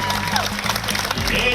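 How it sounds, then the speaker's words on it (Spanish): A small crowd claps for a 105-year-old woman, a short burst of scattered applause that stays moderately loud, with voices mixed in. "Un aplauso para doña Altagracia por sus 105"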